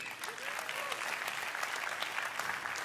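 A church congregation applauds during a sermon, a dense, even patter of many hands clapping, moderately loud and sustained throughout.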